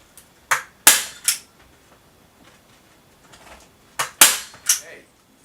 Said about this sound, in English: I'm going to hold it down by hand and then put my second staple in.